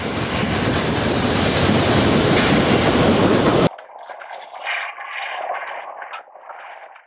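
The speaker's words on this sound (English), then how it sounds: "The 9-coach train arrived behind number" A nine-coach narrow-gauge steam train on the Weisseritz Valley Railway, hauled by K57-series locomotive number 1793, rumbles in loud and near with rolling clatter, then the sound cuts abruptly to a thinner, fainter, muffled continuation.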